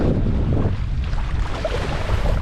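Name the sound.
high wind on a lake while kayaking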